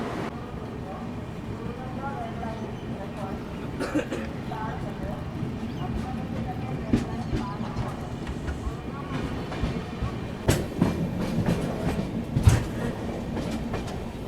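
Interior of the Tejas Rajdhani express, train 20502 to Agartala, in a second AC coach: steady rumble and rattle of the carriage running over the tracks, with occasional louder clacks at rail joints, under faint voices.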